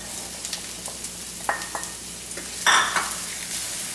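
Diced zucchini sizzles with onions in a hot pan, a steady frying hiss broken by scraping stirs and a few sharper clatters of the utensil against the pan.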